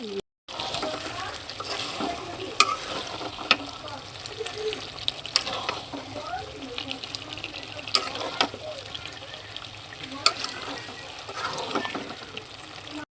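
Beef tripe curry with garam masala and cumin being stirred in a pan, a steady soft sizzle with scraping and clinking spoon strokes throughout, moderately close, with no one talking.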